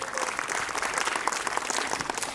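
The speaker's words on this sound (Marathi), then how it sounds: "जोरदार टाळ्या" A crowd at a fashion show applauds with dense, steady clapping that carries on evenly throughout, fairly close and lively.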